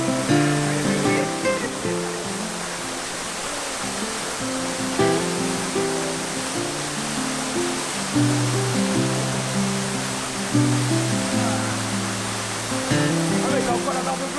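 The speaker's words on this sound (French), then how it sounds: "Sympathique petite balade à la chute d'eau de Zulu." Soulou waterfall on Mayotte, pouring as a steady, full roar of falling water close by, unbroken from start to finish.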